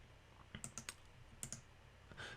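A computer mouse clicked in a spreadsheet, several faint, sharp clicks close by in a quiet room, with no talking.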